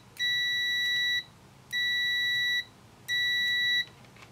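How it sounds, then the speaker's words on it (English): Three steady electronic buzzer tones from a Zotek ZT111 digital multimeter's continuity test, each about a second long with short gaps, bright and clear over faint background hiss. "Decent buzzer. I've heard some that are very weak and hard to hear."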